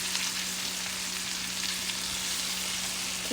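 Roast beef searing on its sides in a hot pan, a dense, continuous close-up sizzle with a faint steady hum beneath.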